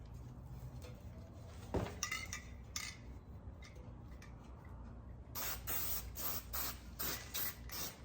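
A can of Walmart spray paint hisses in repeated short bursts close by, with irregular rattling and clicking of the can between sprays and a busier run of quick sprays toward the end.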